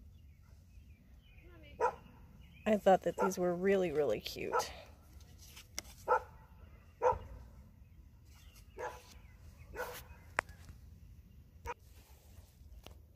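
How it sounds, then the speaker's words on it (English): A dog barks a few times in the background of a flea-market haul recording, with a burst of yips and whimpers near the start under someone talking over it. "Sorry for the dog."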